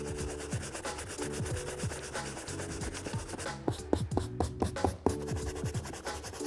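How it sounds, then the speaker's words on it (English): A medium bristle brush scrubs a worn Nike Book 1 sneaker in rapid back-and-forth rubbing strokes, close and steady. The strokes turn choppier and more scratchy partway through. "Let's try with the medium bristle brush first."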